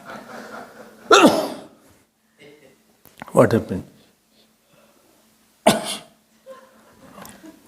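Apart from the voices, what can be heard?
person sneezing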